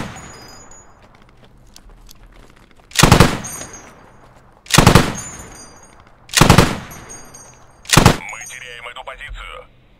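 Machine gun fire from an enemy MG emplacement in the video game Squad: four loud, sharp bursts spaced about two seconds apart over a low background rumble, with a fainter rattling tail after the last burst.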